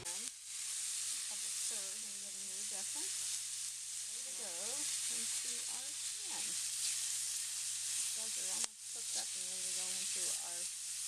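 Half a cup of celery sautés in a porcelain-coated cast iron skillet, giving a soft, even hiss throughout, while a voice with a tonal, sing-song pitch talks over it.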